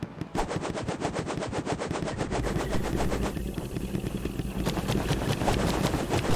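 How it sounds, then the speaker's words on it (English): A boss in the game Her Name Was Fire opens up with rapid machine-gun fire, a loud, continuous stutter of shots with a sputtering, engine-like rhythm that shifts pace partway through, with no voices over it. "Why does it sound like he's trying to start a motorcycle?"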